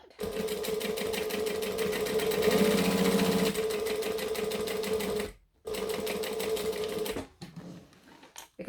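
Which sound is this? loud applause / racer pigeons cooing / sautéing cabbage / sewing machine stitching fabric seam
sewing machine stitching fabric seam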